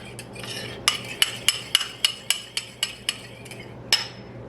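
A spoon or whisk stirs butterscotch pudding mixture in a pot, giving a run of about a dozen sharp metallic clinks and taps against the side at a quick steady pace, close and without talking.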